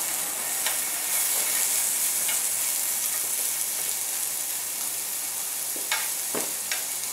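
Food sautéing in a pan with onion, a steady close sizzle and hiss throughout, broken by a few sharp clinks and scrapes of a utensil near the end.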